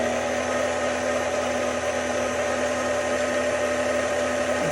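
Electric stand mixer whipping a coffee frosting made with ice cold water, a steady loud motor whir with a constant hum that runs unbroken throughout, no voices over it.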